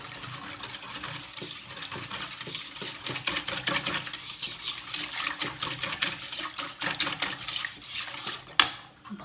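Sugar and butter mixed for brioche dough in a bowl, a near, busy run of utensil clinks and scraping against the bowl in quick irregular strokes, ending with a sharp knock.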